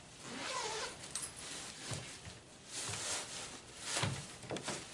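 Zipper on the hood panel of a Peg Perego bassinet, several quiet zipping strokes in an uneven rhythm over soft fabric rustle, close up and faint, with no talk.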